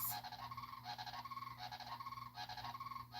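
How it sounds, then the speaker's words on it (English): Birds that are fed by a friend call hungrily in quick, repeated hoots and coos, a pulsing, rhythmic chorus that sounds faint and somewhat distant. "They're hungry, the birds."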